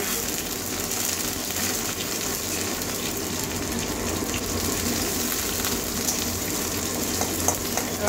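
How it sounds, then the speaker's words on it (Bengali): Chopped onions and green chillies fry in hot oil in a pan, a continuous dense sizzle and crackle heard up close and alone, with no talking. "পেঁয়াজটা একটু কাঁচা গন্ধ যাওয়া পর্যন্ত ভেজে নেব"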